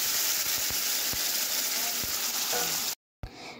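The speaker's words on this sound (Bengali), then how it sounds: "এবার ম্যারিনেট করা যে মাংসটা আমি রেখেছিলাম এবার এই তেলের মধ্যে দিয়ে দিলাম।" Marinated mutton dropped into hot mustard oil with bay leaf hisses and sizzles steadily at close range, with occasional soft pops and stirring clinks, then a brief cut to quieter frying.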